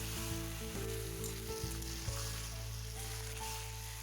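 Taro leaves stirred with turmeric and salt in a hot frying pan, a steady close sizzle with soft scraping stir strokes throughout, no talking.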